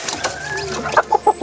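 A chicken clucks close by, a few short soft clucks in quick succession over faint background noise.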